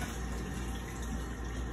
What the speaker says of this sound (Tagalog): So, ang buhos ko, ayan, tatry ko pa rin buhos ng pinakamanipis.